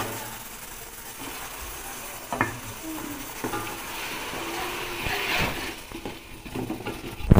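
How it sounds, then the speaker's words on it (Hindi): Garlic, ginger, green chili and tomato sizzle in a pan while being stirred, a steady close frying hiss broken by scraping and clinking stirs, with a few louder knocks near the end. "1 मिनट तक हम लहसुन अदरक को भूनेंगे अच्छे से"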